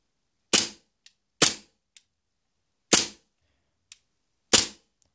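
WE TT33 Tokarev gas blowback airsoft pistol firing four sharp, crisp shots in an uneven rhythm, each a loud close crack with a quick decay, with faint clicks of the slide between them and no talk.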